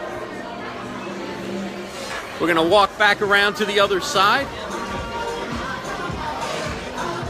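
Crowd chatter fills a red carpet event at a TV show premiere, a steady murmur of many voices throughout, with a nearby person speaking over it for a few seconds in the middle.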